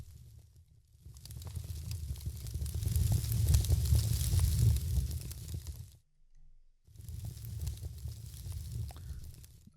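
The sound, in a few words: fire sound effect in Unreal Engine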